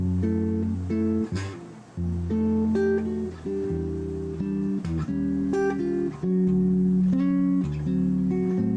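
Guitar plays low, deep bass notes mixed with higher plucked chords, woody and resonant, at a moderate, steady pace without voices.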